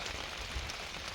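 Rain falling steadily on a garden, a dense, even hiss of drops hitting surfaces with a low rumble beneath, constant and moderately loud throughout, no voices.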